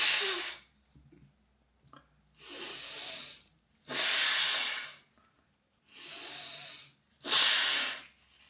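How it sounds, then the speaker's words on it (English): Breath is forced out through one nostril in five long, whooshing exhalations, close and breathy, separated by near-silent pauses. "you block your left nostril and blow out through the right"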